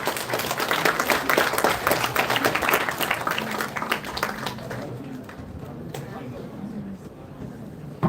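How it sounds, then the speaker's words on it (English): An audience at an alumni entrepreneurs summit claps for Team Pandas in a full round of applause that fades out after about five seconds, leaving a quieter room with some talk. "Please give them a big round of applause, everyone."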